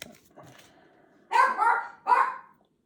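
A house dog barks three times in quick succession, sharp and moderately near, after a stretch of faint background sound.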